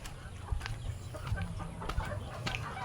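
Chickens cluck softly in the background amid faint farmyard ambience with goats and pigs, with scattered short calls throughout.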